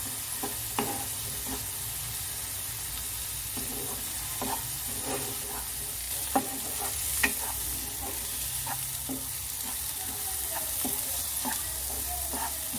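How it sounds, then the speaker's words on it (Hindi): Spices for a paneer curry are roasted in a pan, a steady close sizzle punctuated by repeated scraping strokes of a spoon at an irregular rhythm throughout, with no voices. "मसालों को बहुत अच्छे से भूनेंगे हम। दो मिनट तक इसको हम भूनते रहेंगे।"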